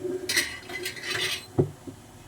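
A large metal cooking pot filled with chopped mustard greens, spinach and fenugreek is handled in a home kitchen, giving a few light metallic clinks and knocks, scattered and fairly close, with no talk.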